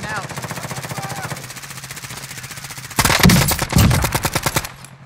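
Rapid automatic gunfire in the Warzone video game, a long burst of fast shots followed by louder, heavier volleys near the end, with players' voices talking over parts of it.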